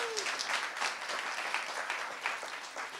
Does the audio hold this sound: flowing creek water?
no